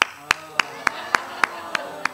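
A slow, polite golf clap: about eight isolated, evenly spaced hand claps, crisp and close, with quiet gaps between each one.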